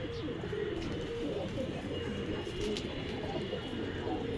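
Pigeons at a Rajshahi Giribaz pigeon farm coo steadily and close by, with soft overlapping low calls and faint rustling throughout.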